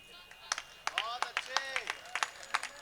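An audience at a Hindi comedy poetry show (hasya kavi sammelan) claps in scattered sharp bursts, while a voice speaks over the clapping.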